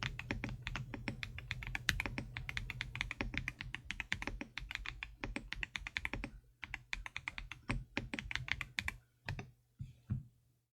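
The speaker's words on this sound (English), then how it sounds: "I can type so much faster than on my other keyboard" Fast typing on a computer keyboard, a dense run of crisp, close key clacks with a low hum beneath, slowing into scattered taps and pauses toward the end.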